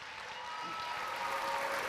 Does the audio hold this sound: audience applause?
yes